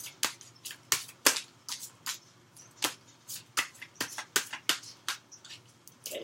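Tarot cards are shuffled by hand, close and fairly quiet, a run of quick papery riffles and soft slaps in an uneven rhythm with no talking.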